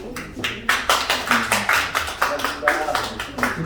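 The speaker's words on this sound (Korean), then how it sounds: "큰 박수 한번 쳐주십시오." An audience claps for politician Kim Seon-dong at a Sinchon community concert, a steady run of sharp, close hand claps with rhythmic surges and faint voices underneath.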